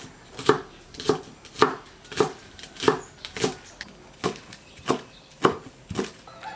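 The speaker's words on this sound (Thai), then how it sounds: "หั่นต้นหอมเสร็จแล้ว" Spring onions being chopped with a knife on a cutting board for a northern Thai gourd curry, about a dozen crisp, evenly spaced chops heard close and alone.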